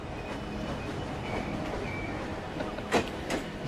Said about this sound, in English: There's just so many tracks, so many trains constantly coming in and out.